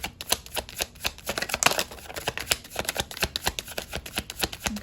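Tarot cards being shuffled by hand, a rapid, close series of crisp slapping and riffling snaps that continues evenly for about five seconds.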